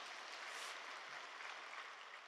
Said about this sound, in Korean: 귀한 말씀 전해주신 목사님께 다시 한번 감사의 박수를 드리겠습니다